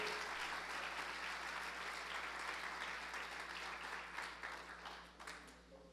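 A church congregation applauds in a sustained, dense wave of clapping that fills the room, holding steady before tapering off toward the end with a few louder claps.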